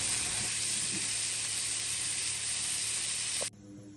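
Sliced onions frying in a pan while cooking cauliflower curry, giving a steady, loud broadband sizzle with faint stirring that cuts off abruptly near the end, leaving a quieter background.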